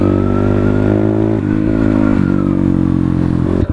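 A motorcycle ridden hard in Sikkim gives a loud, close, sustained engine roar that shifts pitch as the rider changes gear, with a sharp drop near the end and no speech.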